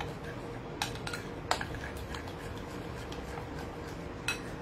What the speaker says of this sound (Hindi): और इसको हम अच्छे से मिक्स कर लेंगे और सब चीजों को ब्लेंड कर एक जैसा करना है